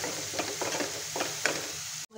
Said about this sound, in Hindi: सारे मसालों को हमें अच्छे से मिक्स करते हुए 2 मिनट तक पका लेना है